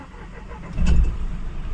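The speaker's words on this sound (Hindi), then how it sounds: "कार को मैं क्रैंक करता हूँ।" Mahindra Bolero Neo engine cranking and catching after fault codes are cleared, a low rumbling surge near the middle that settles into a steady idle, heard close with no talk.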